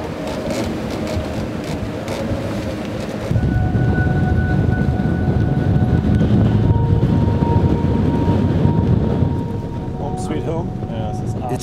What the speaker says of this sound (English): It's freezing cold. It's super windy.